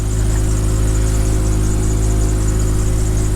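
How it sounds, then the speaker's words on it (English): A Ford ST170 engine running in a budget van build, with a steady close idle hum, a loud continuous drone and a blowing exhaust throughout. "The engine sounds sweet"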